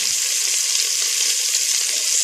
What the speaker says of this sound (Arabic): ونخلوهم يتقليو في رحبه